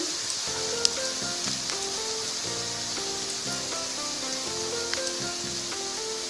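Chopped garlic and ginger sizzling in hot oil for a tadka, a steady hissing fry that runs throughout, with soft music playing underneath.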